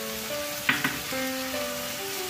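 Water poured into poppy seed paste frying in a pan sets off two quick sharp sizzling bursts over a steady low background hiss.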